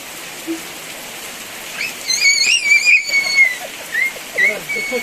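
Steady hissing rain pours down, with thin high whistling tones rising and falling above it partway through.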